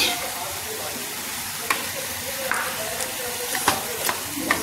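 Soft steady sizzling of broccoli frying in a pan, with occasional scraping clicks as it is stirred, fairly close.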